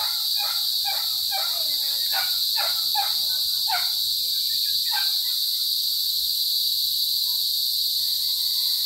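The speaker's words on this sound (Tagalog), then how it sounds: "Ang ingay ng kuliglig guys." Crickets chirp loudly and continuously at night, a dense high shrill drone with a faint rhythmic pulse underneath, heard alone and close.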